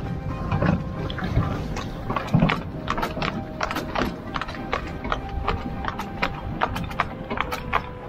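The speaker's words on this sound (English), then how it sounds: "Christmas Eve on a horse and cart." Steady clip-clop of a horse's hooves trotting at an even rhythm, close and clear, with the rumble of cart wheels rolling underneath.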